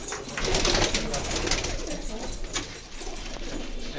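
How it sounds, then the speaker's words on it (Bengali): Pigeons in a home loft coo steadily, several birds overlapping in a soft continuous murmur, close by, with a brief dip in loudness near the end. "দেখুন, এই সব এগুলো আমার ঘরের পায়রা।"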